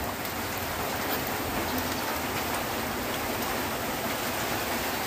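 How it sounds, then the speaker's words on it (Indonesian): Rain pouring steadily outdoors, a continuous broadband hiss of drops on surfaces with no breaks, fairly loud and enveloping. "Tuh hujannya enggak selesai lor ya"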